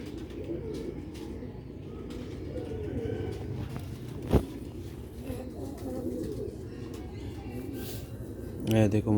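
Sialkoti chhat wali pigeons, with a female of the silver breed, coo near and low amid steady rustling and background voices, ending with a brief burst of sharper calls.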